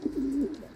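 A homing pigeon gives a single short, low coo at close range against faint outdoor background noise.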